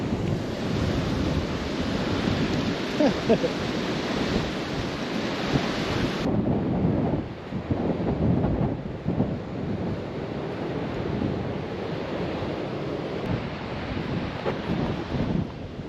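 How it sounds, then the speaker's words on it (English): Strong wind gusts and steady ocean surf roll continuously on a foggy Oregon beach, loud and close, with heavy wind buffeting on the microphone throughout. "it still is nice just walking down the beach, even it's windy and foggy"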